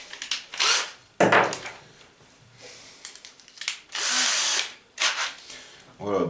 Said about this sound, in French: on va commencer à faire nos avant-trous